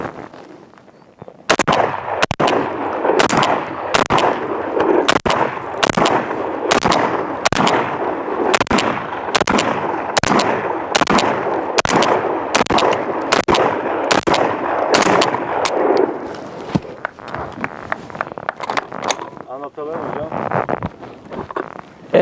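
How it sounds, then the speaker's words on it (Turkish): A Derya Arms rifle with a drum magazine fires about twenty loud, sharp rounds at an outdoor range in a fast, even rhythm, the shots stopping near the end while a voice speaks. "Derya Arms'ın en son harika eserler yarattığı bu tamburla atış yapacağız. İlk önce bir 21 tane atalım bakalım."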